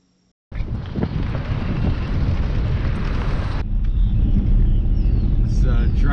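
A car driving on the way to a tent shop before a redfish fishing trip, giving a steady, loud rumble with heavy wind buffeting at the microphone that starts abruptly and runs continuously throughout, with no talking.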